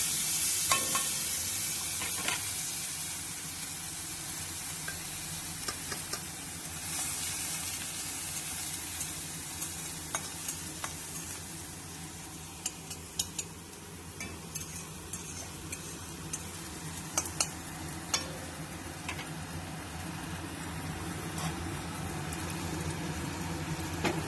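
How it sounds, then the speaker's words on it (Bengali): Dal seasoned with turmeric and salt heats in a pan, giving a continuous soft sizzle and bubbling with scattered stirring clicks and scrapes, close and moderately quiet, no speech. "এই ডালটা একটু হলুদ আর লবণ দিয়ে গরম বসিয়েছি।"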